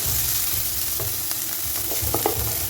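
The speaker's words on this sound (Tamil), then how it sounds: "இது நல்லா எண்ணெய் நல்லா வறுக்கட்டும்" Onions and green chillies fry in oil in a kadai with a constant dense hiss, broken by a few soft scrapes of the spatula near the end and no talking.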